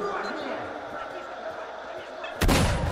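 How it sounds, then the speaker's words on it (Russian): A single sharp gunshot cracks near the end of an arena battle in a video game, loud and abrupt, after a stretch of muffled game background noise. "Это что был за выстрел?"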